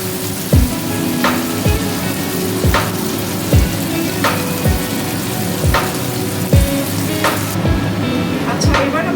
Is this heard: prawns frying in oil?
yes